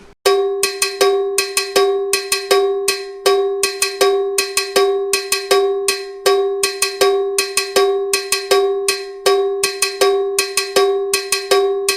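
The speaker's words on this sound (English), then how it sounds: "this is how the Cowbell looks visually when you hear it at the same time" A cowbell plays a repeating syncopated salsa pattern, bright metallic clanks in a steady groove, loud and alone.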